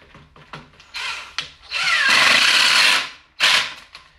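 A power drill drives a screw into a wooden craft table in a few short whirring bursts, then one longer, louder run and a final quick burst, heard up close.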